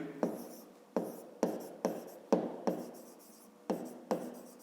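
A pen writes on paper during a math lesson, making a close series of short scratching strokes, roughly eight separate bursts each fading quickly.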